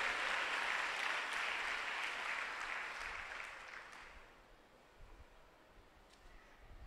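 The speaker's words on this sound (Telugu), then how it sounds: "ఇప్పుడు కొట్టు చప్పట్లో." A church congregation claps together during a Sunday sermon, a dense, steady patter of many hands that gradually thins and fades after about four seconds, leaving a quieter room with a few scattered sounds.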